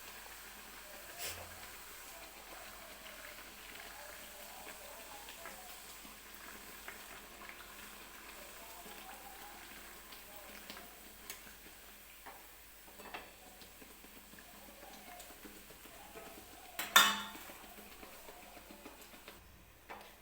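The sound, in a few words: puris made from semolina deep frying in oil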